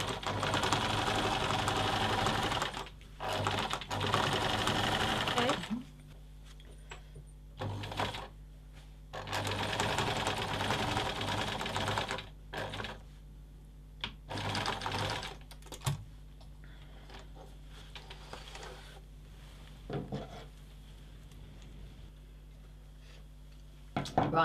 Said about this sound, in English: we're starting with the center seam, remembering to sew a few back stitches